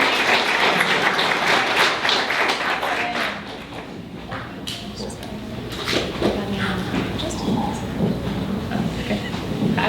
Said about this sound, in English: let's give a big round of applause for our Pioneer kids